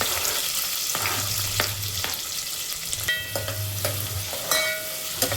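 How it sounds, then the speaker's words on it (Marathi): Onion frying in hot oil with bay leaf and curry leaves for a chicken dish, a steady close sizzle broken by repeated sharp stirring scrapes of a utensil against the pan, with no talk. "फोडणीला कांदा घालायचा आहे."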